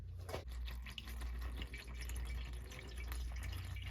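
Distilled water being poured into the aluminum two-row radiator of an NB Mazda Miata, a steady close-up trickle and splash of liquid filling the radiator with dripping, continuing for several seconds with no talk.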